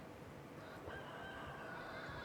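A faint, distant rooster crows once in Mount & Blade II: Bannerlord at daybreak, a drawn-out call rising over a quiet ambient background.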